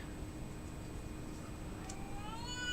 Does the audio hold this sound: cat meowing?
yes